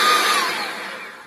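An old air pump blows steadily into a newly built forge, a broad rushing whoosh that starts loud and close and slowly fades over about a second.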